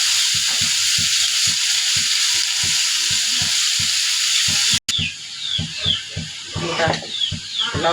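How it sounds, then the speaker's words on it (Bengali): Radish greens drop into hot oil, and a loud, steady frying hiss runs under rhythmic clicking, then breaks off and returns with more broken crackling and a voice talking briefly, close up. "এই যে মূলার শাকগুলো দিয়ে দিলাম তেলের ভিতরে।"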